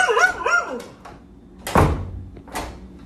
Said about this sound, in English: if a dog's barking, just know there's something there